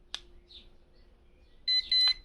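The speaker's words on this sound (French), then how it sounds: "2 bips, ça veut dire que je suis en mode sport, deuxième vitesse." Two short, high electronic beeps in quick succession near the end from a Flyhal clone Bugs 16 Pro drone controller switching to sport mode, following a faint click and a soft chirp in an otherwise quiet room.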